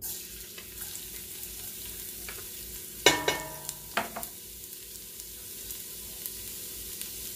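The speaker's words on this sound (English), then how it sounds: "And now I am adding a little bit of garlic." Garlic drops into a hot pan for chicken soup and bursts into a loud crackling sizzle, then settles to a quieter fry broken by scraping stirs and small pops.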